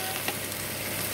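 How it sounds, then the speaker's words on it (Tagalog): Vegetables for pinakbet sauté in a hot pan, a steady close sizzle and crackle with no talking. "Gusto ko kasi yung ginigisa siya."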